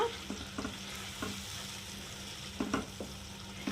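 Tomato paste is mixed into an egg curry in a pan, a soft continuous sizzle with a few light spoon scrapes and taps, close and fairly quiet.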